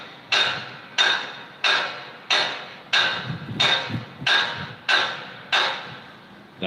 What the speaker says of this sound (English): Someone's hammering pins in on a trailer ramp across the street.